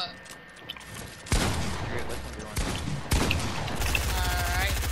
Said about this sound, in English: You're over here shooting me.